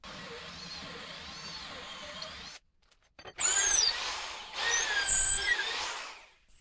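A hand drill whines as it bores into wood, running in a few separate bursts with short pauses between, close by and fairly loud.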